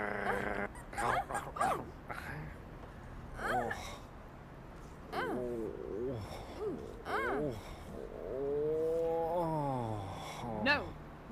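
A cartoon dog barks, yips and lets out drawn-out whimpers in short bursts, with a voice speaking between the sounds.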